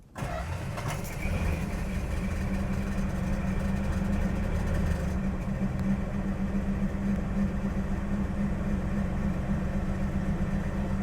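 A 1969 Dodge Dart with a weak-spark problem cranks briefly and fires up, then settles into a steady, rumbling idle close by, with the engine note shifting slightly partway through.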